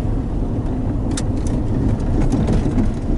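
A car with a manual transmission cruises in fourth gear, a steady loud low engine drone with road rumble, close and continuous, with no talk.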